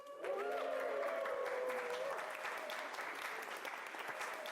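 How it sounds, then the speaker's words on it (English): A live podcast audience whoops and applauds, a few high cheers rising over steady, dense clapping that carries on evenly and tapers slightly toward the end. "give everybody a whoop and some applause"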